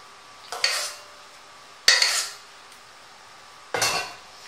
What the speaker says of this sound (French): Je vais mélanger ma salade de riz correctement